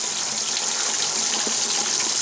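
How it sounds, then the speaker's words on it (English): Water rushes steadily through an open water heater drain valve during a flush, a loud, constant hiss and gush that runs the whole time without pause or voices. "I've actually got the water on and using it as a kind of a super flush."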